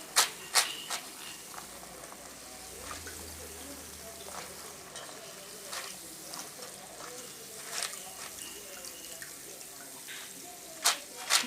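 Evening snacks fry in hot oil with a steady, soft sizzle and scattered sharp pops and crackles, heard close and fairly quiet.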